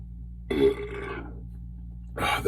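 A man lets out a deep, close burp, then a second one starts shortly after, with no talking between them.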